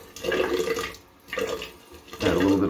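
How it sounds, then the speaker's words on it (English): A bathroom tap runs water to wet shaving cream in a small tub, coming in three short gushing bursts with brief lulls between, close and fairly loud. "Add a little bit of water."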